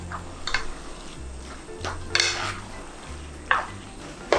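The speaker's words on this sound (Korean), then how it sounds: "좀 볶아주세요." Chewy glass noodles and seasoned meat are stir-fried together for japchae, with spatula scrapes and stirring clatter over a soft sizzle in the pan.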